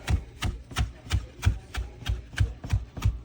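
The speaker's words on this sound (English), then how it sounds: "So what you want to do is just rough chop it." Knife rough-chopping a leafy herb on a cutting board, with about nine sharp, evenly spaced chops in a steady rhythm, close and clear with no talking.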